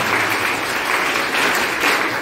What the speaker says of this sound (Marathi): त्यांच्यासाठी सगळ्यांनी टाळ्या.